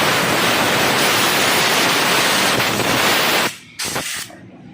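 Loud, steady hiss of compressed air blasting dust off a Honda Activa scooter engine during cylinder head work, a continuous rush that cuts off near the end with a couple of short final bursts.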